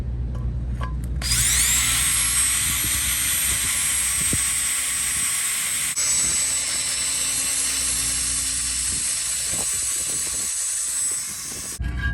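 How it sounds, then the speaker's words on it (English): A power drill whines at high speed for about ten seconds, steady and close, with a hissing, grinding edge as it bores through material. "I'm going to drill either 1 or 2 holes somewhere over here"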